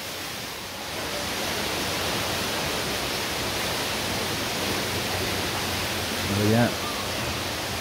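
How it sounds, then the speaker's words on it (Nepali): Water running down from higher ground into a stream in a forested outdoor spot, a steady broadband rush heard close and continuous throughout, with a brief voice near the end. "माथि माथिबाट पानी आइरहेछ खोलालाई व्यवस्थापन गरे जस्तो छ यो"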